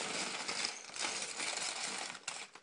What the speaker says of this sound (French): on va surtout ouvrir le second sachet